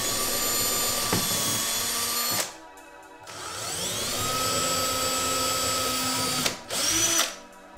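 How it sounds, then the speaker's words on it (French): A power drill boring a pilot hole into a PVC window frame gives two close, loud bursts of high-pitched whirring, with the motor speeding up and winding down and a short pause between the bursts. "Comme je perce dans une fenêtre en PVC, je ne vais pas utiliser les chevilles, je vais seulement faire un pré-trou."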